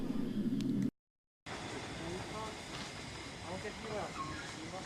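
A locomotive reversing on the Great Central Railway gives a steady broad rumble and hiss, moderately distant, broken by a short dropout before the continuous noise resumes.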